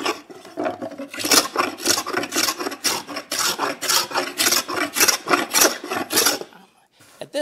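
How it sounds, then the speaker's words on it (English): Cabinet scraper rasping wood and dried glue off a herringbone cutting board, a loud, close, rhythmic series of repeated scraping strokes, each stroke roughly half a second, ending with a pause. "Now, I'm going to take a cabinet scraper."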